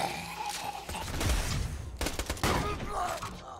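Rapid gunfire in the video game Borderlands 2, played on Xbox One X: dense, crackling bursts of shots and impacts that run loud and close for a few seconds, with a faint voice briefly underneath.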